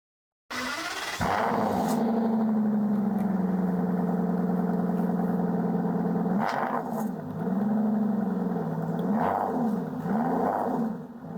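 A stock car sound effect added in editing: an engine idles with a loud, steady low growl, then revs up and down in a few wavering surges.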